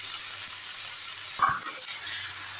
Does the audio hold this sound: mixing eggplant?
yes